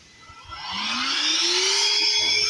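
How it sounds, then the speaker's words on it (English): A Bosch vacuum cleaner motor spins up and settles into a steady, loud whirring drone, with a rising hum underneath. "We're gonna use our old trusty Bosch vacuum."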